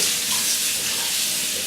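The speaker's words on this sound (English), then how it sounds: "So we'll turn the sink on here real quick." A kitchen sink faucet runs steadily, a constant broad hiss of flowing water splashing into the basin, close and alone without talk.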